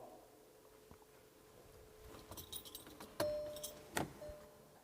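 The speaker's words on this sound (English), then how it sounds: "It's going to ask us to cycle the ignition on and off" Keys jangle and click in the ignition of a 2019 Volkswagen Golf Alltrack as it is cycled on and off, with a faint chime and quiet sharp clicks near the end.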